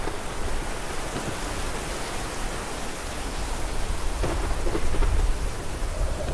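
Heavy rain pours steadily in a dense hiss throughout, with deep rumbling thunder swelling underneath and a sharper crack partway through.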